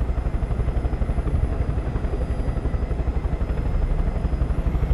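A helicopter in Far Cry 5 holds a steady, close rotor drone with rapid blade chop and a whining turbine, unbroken and loud for the whole stretch.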